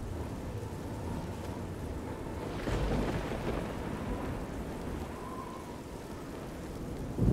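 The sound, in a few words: rain in The Elder Scrolls IV: Oblivion video game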